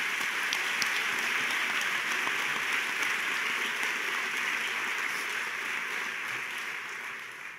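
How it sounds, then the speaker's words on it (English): Sustained round of applause from an audience honoring Pennsylvania Teacher of the Year finalists: steady, dense clapping that holds evenly and eases off slightly toward the end. "deserve one more round of applause"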